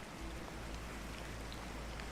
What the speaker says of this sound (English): Rain patters somewhere high overhead, perhaps against a hidden skylight